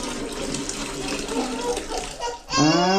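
Running water from a bathroom tap or shower in a house in Baguio City, a steady close wash that is masked by people talking at first and then becomes louder and clearer near the end.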